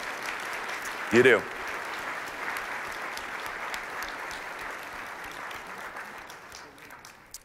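Audience applause at an awards ceremony breaks out as a steady, moderate clapping crowd filling the whole stretch, with a brief spoken word over it near the start.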